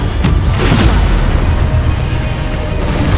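An Expulso spell goes off in Hogwarts Legacy as a loud, booming blast, followed by a dense, sustained roar of rumbling debris and noise that fills the whole moment.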